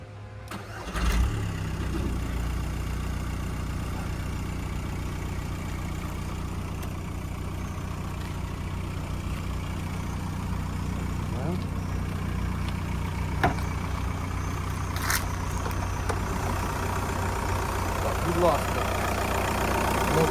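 A car engine that sat unused for a week cranks and catches on the first try, then settles into a steady idle that rumbles on without a break, with a few faint clicks and knocks.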